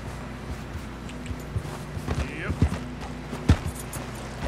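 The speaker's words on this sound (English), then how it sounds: "Your horse will not gallop when its stamina is empty." Hooves clop in an uneven rhythm as a horse moves along in Red Dead Redemption 2, with scattered thuds and mechanical clicks under a steady game ambience.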